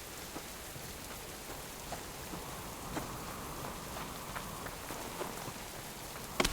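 A heavy rainstorm rages in the survival game Subsistence, a dense, steady hiss of falling rain with scattered drips and faint distant rumbles, close and constant, with a sharper knock right at the end.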